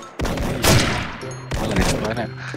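Two loud, crisp gunshots from the shooter game Sudden Attack in a sniper mode, spaced a little over a second apart, each with a ringing, decaying tail.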